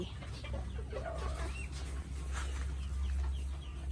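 Guinea fowl newly delivered in a straw-lined box give repeated clucking calls close by, scattered over a steady low hum.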